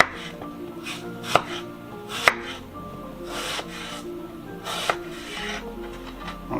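A knife slices through apples on a cutting board with soft, irregular cuts and a few sharper taps against the board, close and fairly quiet, with no talk.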